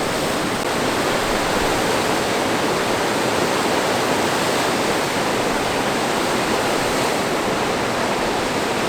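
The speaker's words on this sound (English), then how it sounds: "Every couple, yeah, 100 yards or so, there's another waterfall." A waterfall at Fossil Creek roars as a dense, unbroken rush of falling water, loud and close, holding steady throughout with no voices.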